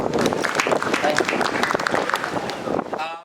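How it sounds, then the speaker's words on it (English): Studio audience at a celebrity talk show applauding a guest, a loud, dense burst of clapping that carries throughout and cuts off abruptly at the end. "Please give him a huge round of applause."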